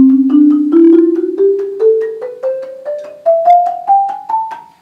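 A mallet keyboard bar struck over the node where the string passes through, giving short muted tones in an evenly spaced rising sequence of about a dozen strikes, each quickly decaying, played alone.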